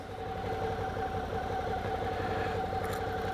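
A motorcycle engine idles steadily at a low, even throb, held at moderate level throughout with no speech over it.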